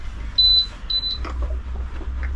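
A mug heat press machine gives short electronic beeps, two or three thin tones in quick succession, followed by a few soft clicks and handling sounds over a low room hum.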